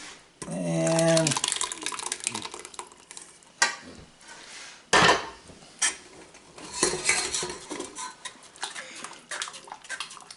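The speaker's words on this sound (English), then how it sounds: "We're trying to crush our vegetables here and extract as much of the sauce and flavor out of this as we can." Cooked vegetables for brown sauce are crushed through a metal strainer with a utensil, giving clattering metallic scrapes and sharp knocks that come in uneven bursts, close up.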